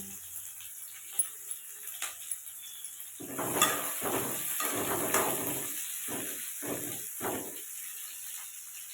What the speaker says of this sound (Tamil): மறுக்கி வச்சுருக்க வெங்காயத்தை போடுறோம் வெங்காயம் வந்து நல்லா வதங்கணுங்க